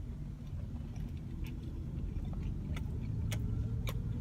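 Car interior while driving, a steady low engine and road rumble close to the mic with a few faint clicks and rustles, no speech.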